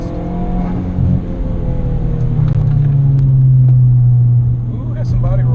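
Modified Saab 9-3 2.0 turbo exhaust droning steadily from inside the moving car, a low rumble that swells under the cabin noise, with people talking over it.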